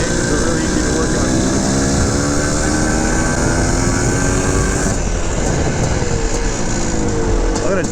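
A 1979 Suzuki RM400 big-bore two-stroke motorcycle rides along a road, its loud buzzing engine holding steady and then shifting pitch as the revs change partway through, with a voice talking over it.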